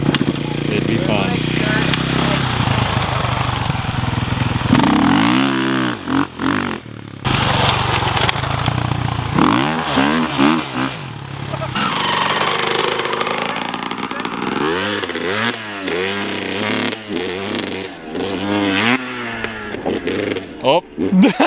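A two-stroke motorcycle engine out in the desert revs and bogs in rising and falling sweeps over about twenty seconds, loud and close, with people talking and shouting over it.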